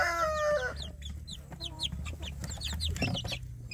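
Free-range village chickens cluck and chirp on an Indonesian farm where young chicks are raised in small pens, many birds calling at once, close and lively, with a short crow-like call at the start.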